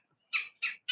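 A woodpecker gives three sharp, evenly spaced calls, clear and fairly close, against near silence.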